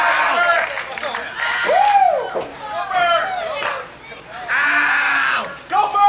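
Crowd at a live independent wrestling show at a brewery cheers and shouts in celebration, a loud, lively mix of yells, whistles and chatter with commentators talking over it.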